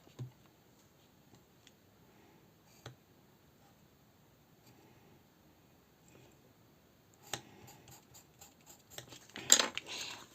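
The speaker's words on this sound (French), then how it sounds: "on va venir découper ces petits morceaux" Scissors snipping small pieces of paper for a handmade frame: a few faint, sparse clicks early on, then a closer, louder burst of cutting near the end, with no talking.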